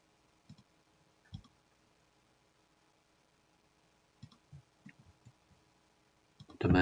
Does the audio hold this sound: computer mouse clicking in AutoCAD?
yes